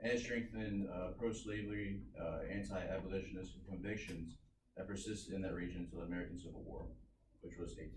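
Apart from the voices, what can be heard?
None of the usual background noises is heard.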